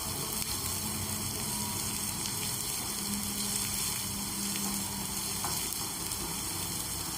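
Finely chopped spring onion whites stir-fry over high heat for a soya chilli dish, giving a steady, dense sizzle with a faint low hum beneath, close and continuous throughout with no talking.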